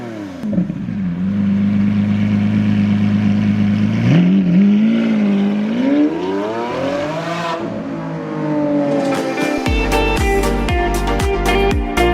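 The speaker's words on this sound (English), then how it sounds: "Manny, your car is so loud." Loud revving of a modified engine from a BMW N55-powered M2 build with a new intercooler, rising and falling through several pulls before sharp crackling pops and bangs at the end, close and dominant.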